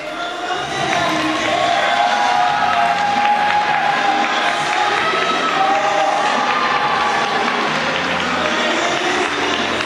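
Wedding guests at an indoor ceremony cheer and applaud as the groom enters, a steady, loud crowd roar with clapping and shouts that holds for about ten seconds.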